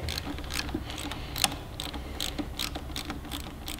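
A ratchet clicks rapidly as it tightens the bolt of a carbon fiber lever on a 2018 Suzuki GSX-R1000, with short bursts of sharp ticking strokes close by and no talking.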